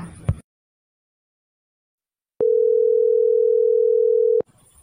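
A cartoon telephone call tone: one steady, clean electronic beep held for about two seconds, loud and alone, with brief noise before and after.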